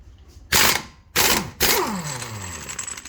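A 1 7/16 ratchet loosens the front axle nut on a 2006 8th-gen Honda Civic Si, three loud close bursts of rapid clicking pawl teeth, the last fading out in a whirring spin.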